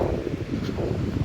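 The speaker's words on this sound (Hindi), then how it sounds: "और यहाँ पे जो है ना हवा चल रही है।" Wind blowing outdoors along a river path, a steady low rushing roar buffeting the microphone, with no voices.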